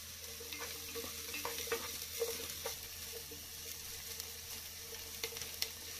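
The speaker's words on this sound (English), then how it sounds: "Onion and cashews अच्छे से saute हो गए।" Onion, cashews, grated ginger and garlic sautéing in a pan, a soft continuous sizzle with occasional light stirring clicks and scrapes, close and fairly quiet with no talking.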